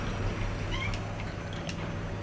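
A cat meows a couple of times inside the Silent Hill 2 Remake video game, soft and brief, sitting under a steady low ambient drone with no talking.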